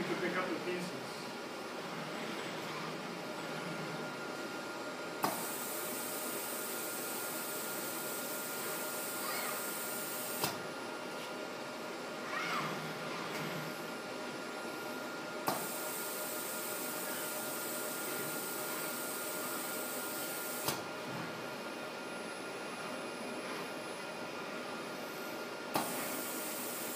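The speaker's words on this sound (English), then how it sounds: "They're using vacuum to pick up the pieces." A robot's vacuum gripper picking up tangram pieces gives a steady loud hiss of suction throughout, broken by a sharp click roughly every five seconds as the airflow cuts and restarts.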